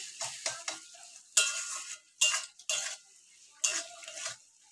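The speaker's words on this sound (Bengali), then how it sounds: "তো এই সসটাকে ভালো করে মিশিয়ে নেব।" Vegetables being stirred with soy, tomato and chili sauces in a frying pan, a spoon scraping in short bursts over a soft sizzle, close and fairly quiet.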